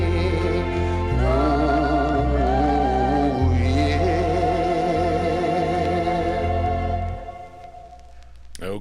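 A soul record on a Duke label 45 plays from vinyl, a warm voice carrying over band accompaniment with sustained horns, easing toward quiet at the end.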